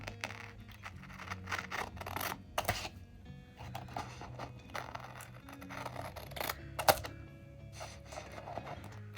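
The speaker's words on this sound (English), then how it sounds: "trim that off with our washi cutter" Washi tape being trimmed with a washi cutter on a planner page, a series of small dry clicks and scratchy cuts close up and fairly quiet.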